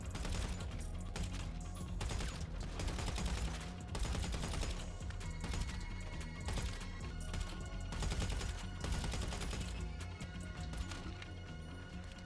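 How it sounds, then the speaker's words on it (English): Gunfire from shooting guards at a depot in GTA Online, heard as dense, continuous rapid shots and impacts mixed with game music, loud and unbroken throughout. "Infiltrate the No Way Depot, shoot up all of the guards,"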